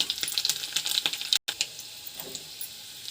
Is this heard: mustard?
yes